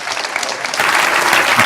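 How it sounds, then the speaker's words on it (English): Audience applause for Glynn after his talk at a church gathering, a short dense burst of many hands clapping that swells slightly louder halfway through. "can we give him a massive round of applause to say thank you for speaking to us this week"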